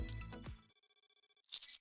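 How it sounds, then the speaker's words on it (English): A phone in the game NIKKE blares a frantic electronic ringtone, a rapid string of short pulsing beeps after a brief burst of sound, ending in a bright chime. "As the phone blares out a frantic ringtone, the screen turns on."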